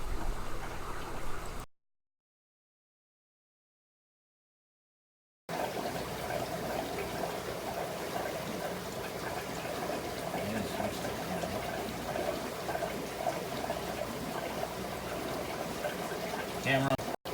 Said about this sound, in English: I'll show you the auto water change system. So let me plug this in here and go from there